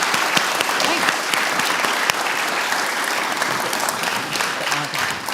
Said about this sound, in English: let's give them a big round of applause and thank Derrick for doing.